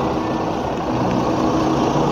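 A bus engine idles with a steady, dense low rumble throughout, close and continuous, with no voices heard over it.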